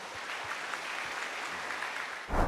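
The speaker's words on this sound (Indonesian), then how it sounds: "Boleh berikan tepuk tangan." An audience at a religious talk on marriage and family claps steadily at a moderate level, a continuous patter of many hands that swells briefly right at the end.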